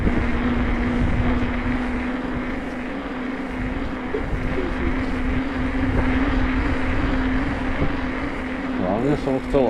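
A DJI Neo drone flies outdoors on a windy day, its propellers holding a steady whine under gusting wind noise, with a louder burst of rustling near the end.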